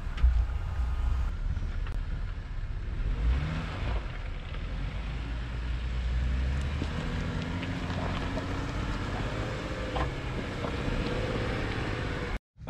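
A manual Jeep crawls up an off-road climb in first gear, its engine a low, steady drone with wind buffeting the microphone throughout and no voices.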